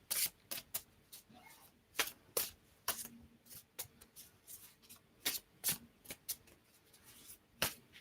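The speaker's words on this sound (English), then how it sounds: "So let's have a little shuffle." Tarot cards shuffled by hand during a live reading, giving repeated crisp riffling bursts in an irregular rhythm, close and fairly quiet with no talking.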